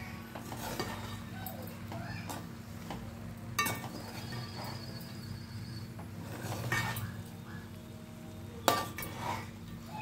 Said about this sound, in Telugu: చికెన్ వేసుకున్నామండి ఇందులో. ఇది బాగా కలుపుకోవాలి.